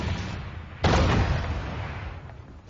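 Heavy artillery fire during the French counterattack at the Meuse River in May 1940 in WWII: a sudden loud boom lands a moment in over a rumbling background and rolls off slowly into a long fading roar.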